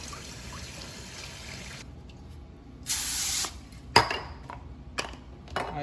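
Frozen, cleaned salmon rinsed under a running tap, a hissing spray of water that comes and goes in bursts, with a few clunks of the fish or dish in the sink.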